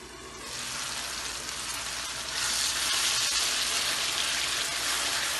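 Ginger garlic paste frying in a pan for karahi kabab, a steady broadband sizzle that grows slightly louder partway through, close and continuous with no talking.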